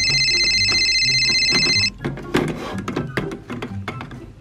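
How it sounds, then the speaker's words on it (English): A telephone rings with a loud electronic trill for a couple of seconds, then stops and gives way to clattering room noise. "Let me get the phone."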